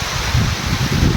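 Gusty wind during a heavy, sudden rainstorm, a loud, unbroken rushing with leafy rustling and low buffeting, close by and brief.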